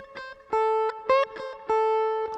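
Electric guitar plays a short bluesy pentatonic lick with a string bend and release, clean sustained notes picked in a quick phrase, alone and moderately loud.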